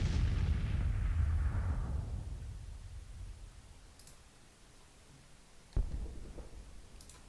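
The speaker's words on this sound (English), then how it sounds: "these guns can shell the enemy as much as they please" Artillery guns shelling in the Civil War strategy game Grand Tactician, a heavy booming roll fading over several seconds, then one sharp distant report and faint clicks.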